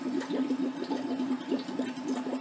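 Water gurgles and bubbles steadily as it drains from a steam bike's long-necked bottle through a valve, a continuous liquid glugging with rhythmic pulses, close and moderately loud.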